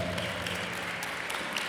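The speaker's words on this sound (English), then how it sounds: "give the trombones a big round of applause" An audience at a fifth grade school concert gives the trombones a steady round of applause, many hands clapping in a continuous, moderately distant wash with a faint low hum beneath.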